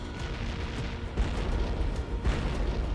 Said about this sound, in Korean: 황제군과 스웨덴군의 대포가 동시에 불을 뿜었습니다